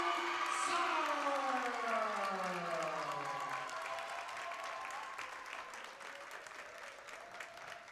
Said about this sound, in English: let's give a big Kahok round of applause for